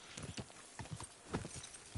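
Horse hooves clip-clopping in the video game Kingdom Come: Deliverance II, a quick, uneven run of close thuds repeating across two seconds.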